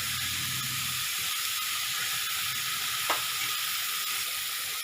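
Ground masala fries in a pan with softened tomatoes for a dhaba-style fish curry. It gives a steady, close sizzling hiss throughout, with one brief scrape of stirring partway through.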